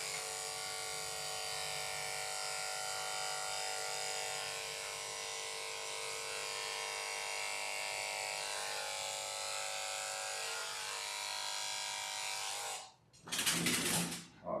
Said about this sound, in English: So as long as I stay inside of this, I will be fine shaving it.